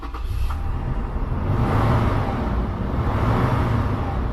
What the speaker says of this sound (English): So you know you've got a big engine there.